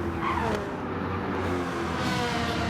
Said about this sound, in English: Pilgrim is really pushing the Ferrari.